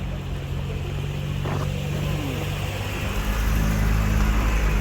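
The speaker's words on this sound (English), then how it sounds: "Oh, another car." A car rolling past on a narrow street in Jerusalem's Old City, a steady low engine rumble that grows slightly louder toward the end, nearby and moderate in level.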